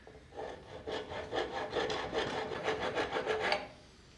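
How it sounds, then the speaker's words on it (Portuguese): Flat smooth side of a wood rasp shaping a hand-carved wooden neck, a close rough rasping with steady back-and-forth strokes that speed up before stopping, no talk. "Agora vamos usar o acabamento na grosa. Lado reto da grosa, lado liso"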